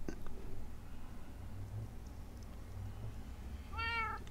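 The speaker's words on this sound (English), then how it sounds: "Hey, kitty cat." Cat in the Minecraft video game gives one short, clear meow near the end, heard over quiet background noise.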